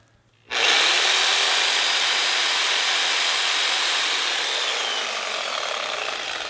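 A reciprocating saw powered by a Geneverse HomePower Pro 2 portable power station starts abruptly and keeps cutting wood steadily for several seconds, a loud, harsh buzzing rasp that eases only slightly toward the end.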